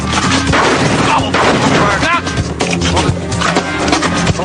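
Shotgun blasts ring out during a police raid at a motel room, loud overlapping gunfire filling the whole stretch with people shouting over it.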